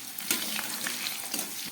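Salted potatoes frying in oil give a brief, close, steady sizzle broken by a few quick stirring scrapes and taps, with no speech.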